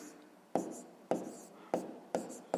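A pen writes on paper up close in short scratchy strokes, with repeated sharp taps at regular intervals and no speech.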